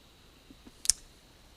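Computer mouse clicks sound close and crisp: two soft taps followed by a sharper double click, in an otherwise quiet room.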